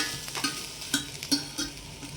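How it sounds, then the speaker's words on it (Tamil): A spatula stirs a beetroot stir-fry mixed with grated coconut in a pan, making several quick scraping strokes close by over a light sizzle. "எல்லாம் ஒன்றா சேர்த்து கலரிட்டு ஒரு ஒரு நிமிஷம் போல் இருக்கட்டும்ங்க தேங்காய் துருவல் போட்டு"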